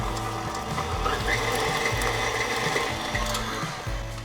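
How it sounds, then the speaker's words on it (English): A stand mixer beats thick coffee cake batter, its motor grinding with a repetitive, clattering gear rhythm that pulses steadily and close by, with no voices over it. "Sometimes I actually wonder if the stand mixer is any less work"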